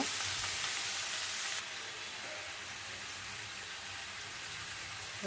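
Chopped tomatoes sizzle and fry in a hot pan while being stirred, a steady close hiss that starts louder and settles slightly softer after the first second and a half, with no talking.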